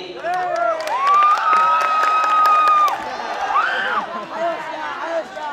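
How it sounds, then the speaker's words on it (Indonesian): Audience at an Islamic school debate cheers for a team, with sustained high shouting voices and scattered clapping rising together, then trailing into lively crowd chatter. "tepuk tangan untuk tim B dengan opening statement-nya"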